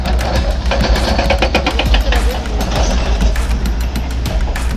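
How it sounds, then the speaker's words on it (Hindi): Large stone-crushing machines run in hilly country on the Anuppur and Gaurela-Pendra-Marwahi border, giving a loud, continuous low rumble with grinding, rattling noise throughout and no voices. "पहाड़ों में हो रही बड़ी बड़ी मशीनों की गूंज"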